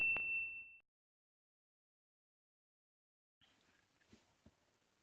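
A single bright notification bell ding rings out at the start and fades within about a second. It is followed by silence, then faint low rustling.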